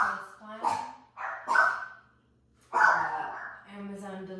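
Several dogs bark loudly and excitedly at delivery people arriving at a house, with sharp repeated barks, a brief pause, then more barking trailing into whimpering yips.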